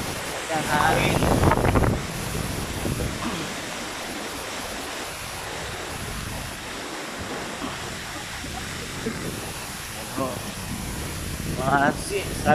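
Powerful typhoon winds rush continuously through swaying bamboo and leaves, loud and close with microphone buffeting, while a voice speaks briefly at the start and end.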